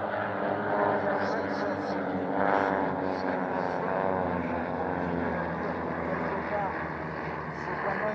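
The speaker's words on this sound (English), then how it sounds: "flying two Cessna 337s dressed up as O2 Skymasters" Two Cessna 337 Skymasters dressed as O-2 observation aircraft fly at a warbird airshow, their propeller engines droning steadily with a wavering pitch, while a voice talks over them.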